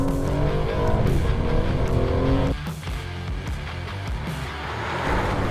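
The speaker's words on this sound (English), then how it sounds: "And so then to the Aston Martin DB12 to drive." Aston Martin DB12 being driven, a strong engine note rising under acceleration and then easing into a lower, rougher rumble with road and mechanical noise, close and steady.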